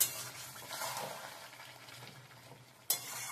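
Spoon stirring chicken being slow-fried with sesame in an uncovered pan, a steady close sizzle with soft scraping, then one sharp clink of utensil against pan near the end.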